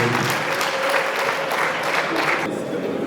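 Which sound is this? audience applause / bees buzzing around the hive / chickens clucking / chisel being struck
audience applause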